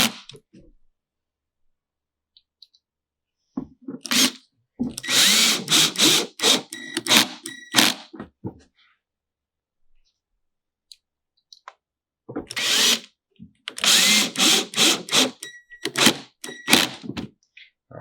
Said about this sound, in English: And dial your screw gun down so it doesn't shoot right through it.